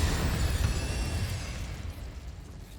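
An Incendio fire spell bursts in the Hogwarts Legacy video game, a loud, broad fiery whoosh that fades away over a few seconds.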